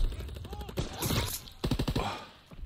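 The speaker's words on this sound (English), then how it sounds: "Well, the grease gun isn't too bad." A grease gun submachine gun firing in Call of Duty WW2, two rapid bursts of closely spaced loud shots, with short pauses and some in-game noise between them.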